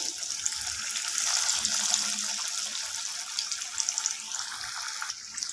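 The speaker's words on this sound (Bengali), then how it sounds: "এরপর আমি কাটলেটগুলোকে তেলের মধ্যে ছেড়ে দেব" Jackfruit cutlets sizzle in hot oil on low flame, giving a steady, bright, hissing crackle that swells and settles as the pieces fry. No voices are heard.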